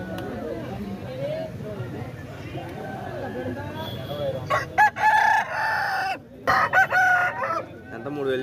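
A rooster crows at a Saturday country chicken market in G. Mamidada, several loud harmonic bursts rising over steady crowd chatter and nearby voices.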